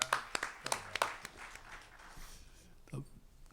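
A literary conference audience applauds a speaker with a quick burst of scattered claps that thins out within about a second, leaving faint room noise and murmuring voices.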